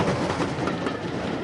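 A train running on rails, with a steady rumble and a rhythmic clickety-clack of the wheels, continuous and fairly loud throughout.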